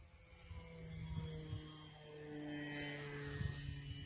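An RC Combat Battle-Axe twin plane's electric motors cruise at about 55% throttle, a steady faint buzzing hum with a whiny tone holding level throughout.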